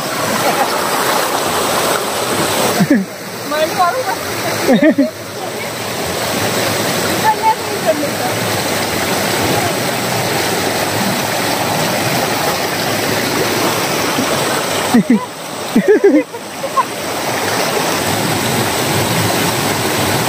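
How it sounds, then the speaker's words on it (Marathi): A river's water rushes loudly and steadily close by, a constant broadband roar. Brief bursts of people talking break through a few times. "नदीच्या मधोमध बघा, पूर्ण इकडून नदी आहे."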